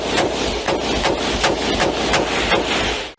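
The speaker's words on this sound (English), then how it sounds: "This is what an AR-15 sounds like." An AR-15 semi-automatic rifle fires a rapid string of about nine loud, sharp shots at a steady pace, then the sound cuts off abruptly.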